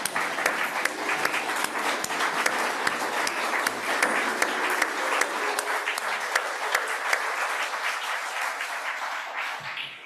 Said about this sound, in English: let's have some applause for the visiting stewards